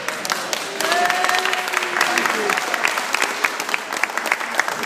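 Crowd applause at the York City victory parade, steady outdoor clapping from many supporters with a few whistles, under a brief spoken thanks.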